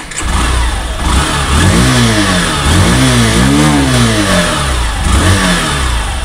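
Hero Passion Pro BS6 motorcycle engine running close by, loud and revved up and down several times in rising and falling sweeps between idle stretches, with no voices.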